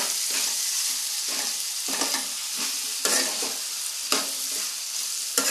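Tomatoes hit hot oil and fry with a loud, steady sizzle, broken by periodic stirring scrapes and bursts, close and continuous with no talk.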